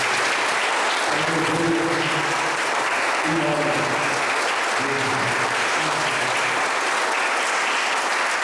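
A church congregation claps together in sustained applause through the whole stretch, with a voice speaking intermittently over the clapping.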